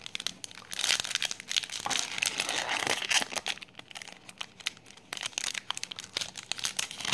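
A foil booster pack wrapper for Yu-Gi-Oh Legendary Collection Kaiba cards crinkles and tears open close up, a steady run of sharp crackling and ripping with no talking.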